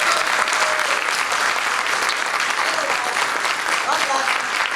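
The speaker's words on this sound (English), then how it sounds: "Give a big round of applause." A convention audience at the Pensacon 2016 Deep Roy panel gives a sustained round of applause, loud and dense clapping with faint cheers and voices mixed in.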